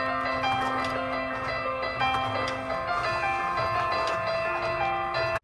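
A LEGO piano set plays a classic song through its key sound effects, a continuous melody of bright tuned tones heard clearly and alone until it cuts off at the end.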